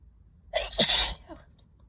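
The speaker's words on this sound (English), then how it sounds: "I have to sneeze." A single loud, close sneeze, part of a sneezing fit set off by dusty books, with a sharp sudden burst and a short breathy tail, heard alone.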